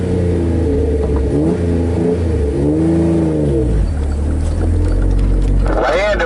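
An off-road vehicle engine revs on the Red Bird Trail in low range and third gear, with lockers engaged front and rear. The loud, close engine rises and falls in pitch, straining under load with no clear talking.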